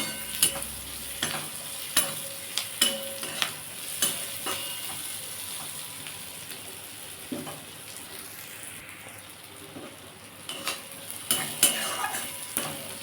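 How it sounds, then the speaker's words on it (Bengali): Onions sizzle steadily in a hot pan, frying until reddish-brown, while a spoon scrapes and clinks against the metal at irregular intervals, close by, with no talking. "পেঁয়াজটা একটু লাল লাল করে ভেজে নেবো"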